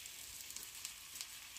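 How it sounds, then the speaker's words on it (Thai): Chinese sausage frying in a pan with no added oil gives a soft, continuous sizzle flecked with small crackles and pops, with no talking. "ทอดอันนี้ตั้งกระทะแล้วก็ไม่ใส่น้ำมันนะคะทอด"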